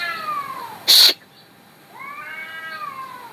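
Drawn-out cat yowls, one near the start and another rising and falling near the end, with a short sharp noise burst between them.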